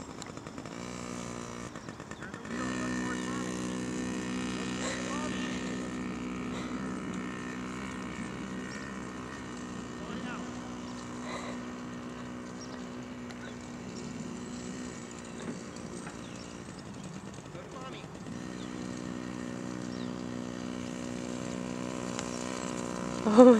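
A small PW50 dirt bike engine ridden by a two-year-old buzzes steadily at moderate loudness with a constant harmonic drone, holding fairly even revs for over twenty seconds before swelling louder right at the end.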